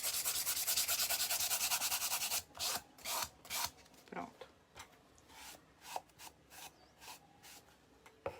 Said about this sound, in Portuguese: Deixa eu lixar.